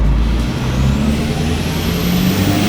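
A truck running with its exhaust fallen off, giving a loud, close, continuous engine drone with low tones shifting slowly and no voices.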